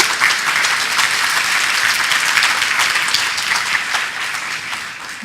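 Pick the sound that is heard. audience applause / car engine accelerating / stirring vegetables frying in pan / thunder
audience applause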